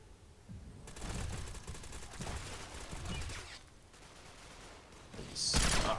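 Gunfire in the online shooter Ghost Recon Phantoms comes as bursts of dense, rumbling shots with sustained rattling stretches and a sharp, loud crack near the end.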